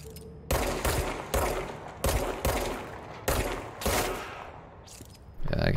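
Repeated gunshots from shooting enemies in the game Control: about seven sharp, loud blasts spaced roughly half a second to a second apart, each with a short ringing decay, and no talking.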